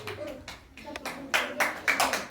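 Children clapping by hand at a school Republic Day function, a few scattered claps at first, then sharper, louder bursts, with young voices faintly in the background.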